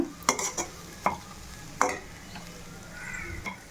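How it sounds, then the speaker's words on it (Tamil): Cooked rice is lightly tossed into vegetable fried rice in a hot pan, with a soft sizzle and a few quick, distinct scraping stirs close by. "சாதத்தை சேர்த்துட்டு ரொம்ப நேரம் அதை பெரட்டணும்னு அவசியம் இல்லை லைட்டாக பெரட்டி இறக்குனாலே போதும்"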